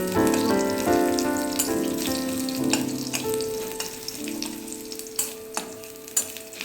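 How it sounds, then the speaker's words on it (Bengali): Oil sizzles steadily as garlic fries in a pan, with a few utensil clinks and taps standing out over the continuous crackle. "আমি বাড়ি ফিরে আবার রসুনটা তেলের মধ্যে দিলাম"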